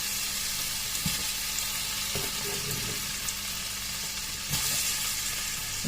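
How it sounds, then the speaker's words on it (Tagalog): Ground meat (giniling) sizzling steadily in a pan, a constant close frying hiss with a few faint clinks and stirring scrapes, no voices. "Luto tayo ng giniling"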